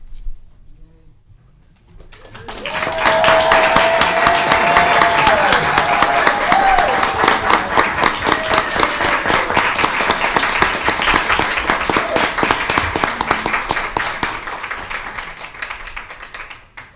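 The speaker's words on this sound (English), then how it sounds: "I don't think I've seen so many applause in such a short amount of time." Sustained applause fills a city council meeting in Lincoln, rising after a brief quiet opening and holding steady as a dense, loud wash of clapping until near the end, with a few voices calling out faintly beneath it.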